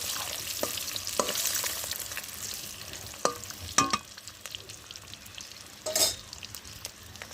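Lentil dumplings (bori) frying in hot oil, a steady crackling sizzle broken by several sharp clatters of a utensil against the pan, close and fairly loud with no talk.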